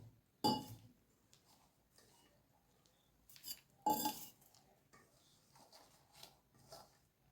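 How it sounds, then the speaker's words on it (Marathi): Spinach fritter batter is stirred with added water in a bowl, heard as two sharp clinks of utensil on the bowl among quieter scraping and tapping. "पाणी टाकून अजून थोडंसं मिक्स कर करावं लागणार आहे"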